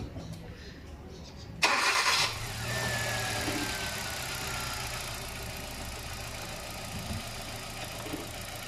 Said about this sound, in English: And we will turn on the engine